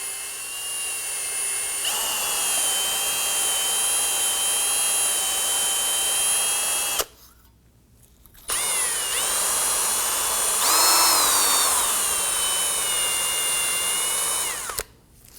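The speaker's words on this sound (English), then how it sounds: "we're going to use our bore brush on our drill" A power drill spinning a bore brush to clean a brake part on a Nissan Murano whines steadily at close range, pitch shifting as it spins, cutting out briefly for a second before running again, then stopping near the end.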